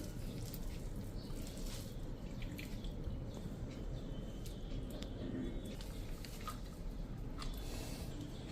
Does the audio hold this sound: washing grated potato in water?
yes